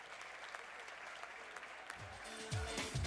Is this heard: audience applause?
yes